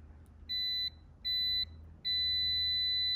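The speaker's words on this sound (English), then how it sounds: "we'll go ahead and take the function over to continuity, and we'll see how loud the buzzer is on this" Continuity buzzer on a Kaiweets ST500Y digital multimeter sounds three steady high-pitched beeps, two short and a longer final one, clear and close against a quiet background.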